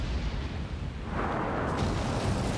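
A colossus in the video game Shadow of the Colossus firing explosive shots, a deep rumbling blast that swells into a heavy, sustained roar of impact debris, loud and close with no talk.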